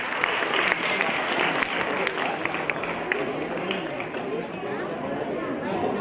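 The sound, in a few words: audience applause for quiz teams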